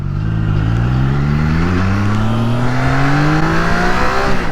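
A Triumph Trident 660 motorcycle engine revs up steadily and loudly under acceleration, its droning tone climbing smoothly in pitch close to the rider with no speech.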